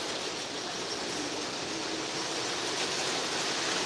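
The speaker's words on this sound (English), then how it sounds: "listen to the sounds of the railroad" O gauge model trains running on a layout give a steady, even rushing rumble that holds level throughout with no voices.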